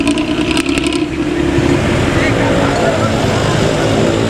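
A bus with a loud, snoring modified exhaust rumbles in heavy traffic on the Pantura road, a deep continuous drone that dominates throughout, with a few brief horn-like tones near the start and voices mixed in.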